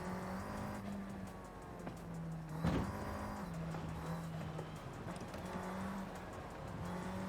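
Race car engine in Forza Horizon 5 dropping a gear, a steady droning note that steps in pitch with each downshift and throttle blip, alongside a brief sharp burst near the middle, loud and continuous without any talking.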